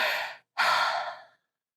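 A voice imitates heavy breathing: a long breathy exhale, a brief pause, then a second, longer airy breath that fades out, close and fairly soft.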